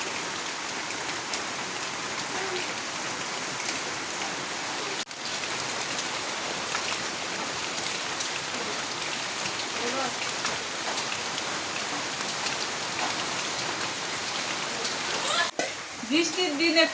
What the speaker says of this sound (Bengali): যে বৃষ্টি শুরু হইলো।